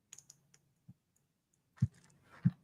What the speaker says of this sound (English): Listen to all that typing going on.